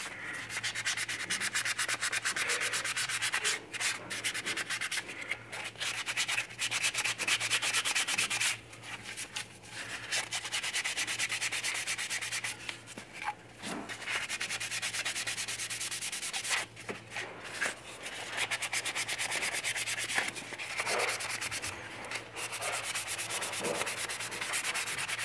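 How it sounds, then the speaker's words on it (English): A sanding sponge is worked back and forth against a 1/6-scale vinyl figure kit during wet sanding, giving a steady, close scrubbing rasp with brief pauses and a faint low hum beneath. "Wet sand this too. The nice thing about these sanding sponges,"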